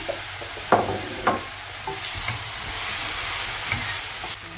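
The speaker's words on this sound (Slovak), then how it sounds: "dáš čierne korenie, sol, premiešaš, poopekáš minútku" Leeks and potatoes fry in a pot with black pepper and salt while being stirred, giving a steady low sizzle broken by a few sharp scrapes and clinks of the spoon, with no talk.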